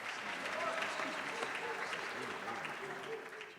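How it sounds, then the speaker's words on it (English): Applause from an audience honoring women leaders at an evening gala, a dense sustained clapping that swells early and holds steady before tapering off slightly at the end. "Give them a big round of applause."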